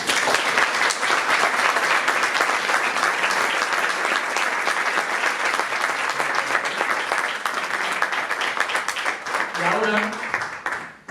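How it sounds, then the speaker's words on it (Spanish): Sustained audience applause fills a lecture hall at the close of a talk, dense and steady for about ten seconds before tapering off at the end. "Una vez que ya han dado este aplauso"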